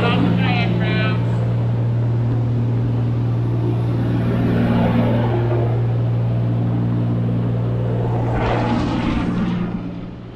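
A water taxi boat engine drones loud and steady throughout, a low constant rumble with tonal hum near the listener, and a voice talks over it before the noise fades at the end.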